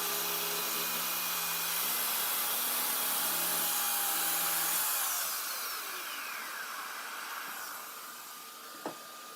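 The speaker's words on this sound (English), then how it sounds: "Set up with my saw right at the front. 2 hands on the machine," A power saw run along a wooden board being cut for a cutting board, a loud steady whine that holds for about five seconds, then thins and winds down, ending with a small knock.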